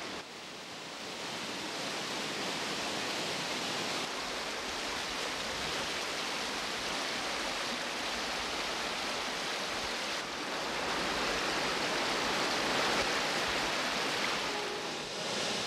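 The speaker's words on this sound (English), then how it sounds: "An abundance of fresh water cascades from the ridges." Fresh water cascading down ridges along the Prince Regent River in remote northern Australia, a constant broad rushing roar that holds steady throughout with no break or voices.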